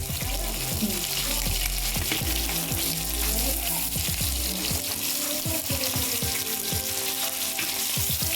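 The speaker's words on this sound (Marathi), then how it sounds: "मासे मस्त दोन्ही बाजूने खरपूस भाजून तयार झाले" Fish fries crisp on both sides in Malvani home style, giving a constant, close sizzle with scattered clinks and scraping of a utensil.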